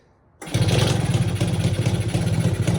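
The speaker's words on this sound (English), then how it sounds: "you can turn the key and you can hit the push start" A 1969 Yamaha YA6 Santa Barbara motorcycle engine starts with the push button, catches abruptly and settles into a loud, close, steady idle with a rapid rhythmic putter, and no one talks.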